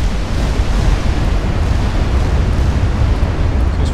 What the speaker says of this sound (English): I want to fire a full high explosive salvo